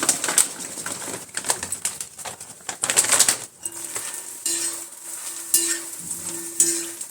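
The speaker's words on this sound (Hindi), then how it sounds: "सबसे पहले ताल मखाना तल लेंगे" Fox nuts (makhana) fry in hot ghee with a loud, bursting sizzle and crackle at first, then settle into a steadier hiss while a bird coos repeatedly nearby.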